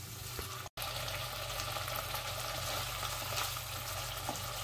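Vegetables fry and sizzle in hot oil separating in a pan of korma parwal while being stirred, a steady, soft hiss with a brief cut near the start.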